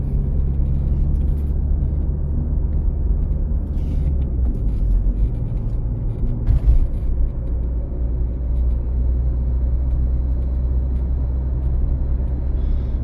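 A car drives along city streets in Lutsk on a driving-exam route. A steady, loud engine and road rumble is heard from inside the cabin, with a brief thump midway and no talking.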